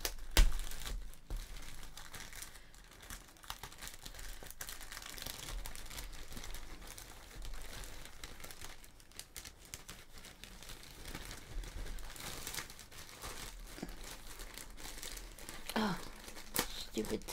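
The plastic bag of a Lanarte cross stitch kit is crinkled and rustled open at close range, giving a long, continuous stretch of crackling and tearing plastic sounds with occasional sharper crunches, all fairly quiet.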